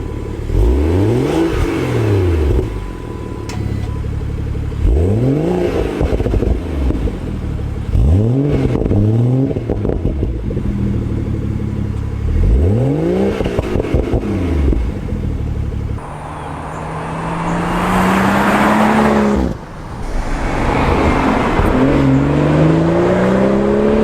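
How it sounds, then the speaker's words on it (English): A BMW F30 with an axle-back exhaust is revved several times in a row, each rev rising and falling in a loud, throaty roar, ending with longer, steadier revving. "that was like the first exhaust mod that I did for this car"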